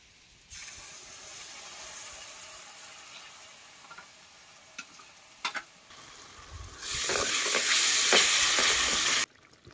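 Yogurt added to hot masala and oil in a pan over a wood-fired stove for dum aloo, with quiet sizzling and a few stirring scrapes, then a loud burst of frying hiss for a couple of seconds before cutting off.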